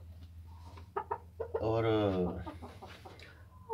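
An Ayam Cemani rooster clucks and gives a drawn-out crowing call near the middle, close and fairly loud over a low hum, with someone speaking briefly around it.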